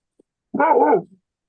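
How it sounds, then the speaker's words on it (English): Dog giving a single short bark, clear and isolated against silence, with a faint tiny yip just before it. "there's another dog barking"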